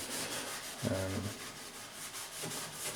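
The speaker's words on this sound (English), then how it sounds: "just using the red Scotch Brite for all these round areas. Get them all scuffed up." A red Scotch-Brite pad scuffs the rounded body panels of a 1977 Camaro Z28 in a cold garage, a soft close rubbing with a brief louder scrape or two.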